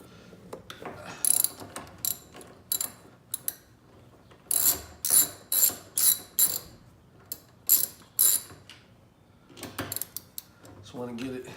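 A hand ratchet with a 10 mm socket loosens the screws on a car side mirror during a mirror replacement, sounding as repeated close, sharp clicking bursts of several seconds each, with short pauses between strokes.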